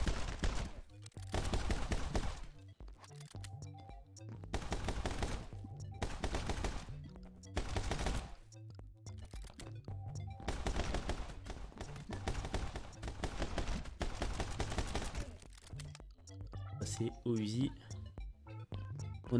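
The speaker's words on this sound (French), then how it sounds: "On va prendre l'arme de base, le pistolet." Pistol gunfire from the action game My Friend Pedro rings out in rapid repeated bursts of loud sharp shots across the stretch, with short gaps between volleys and a voice talking underneath.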